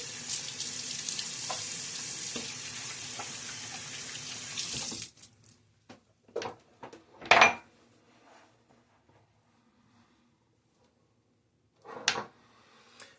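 A tap runs steadily for several seconds while shaving with a Gillette safety razor, then shuts off, followed by a few scattered clinks and knocks in a quiet room.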